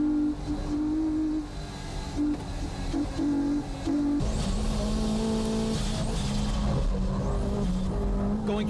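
Honda NSX and Nissan S15 race cars lapping Fuji Speedway's high-speed corners: loud, sustained engine drone with shifting pitch as the two run nose to tail, steady and close throughout.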